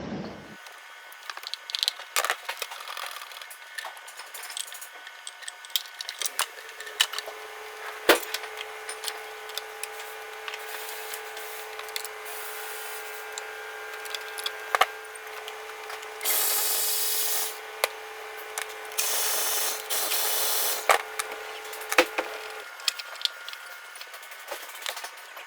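Hand tools working on a 2011 Mini as ducting is undone and the fuel pump is removed: sparse close clicks, taps and scraping rubs in a quiet setting, with a brief steady whir partway through.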